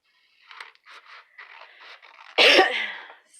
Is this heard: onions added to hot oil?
no